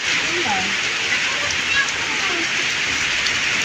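Steady, dense rainfall hisses continuously across the whole stretch, a broad even wash of sound with faint distant voices underneath.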